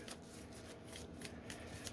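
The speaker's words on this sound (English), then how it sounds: "We make 3 piles, shuffle them together," A deck of playing cards is riffle-shuffled from piles, giving a quiet, close run of rapid rippling flutters with a few soft taps.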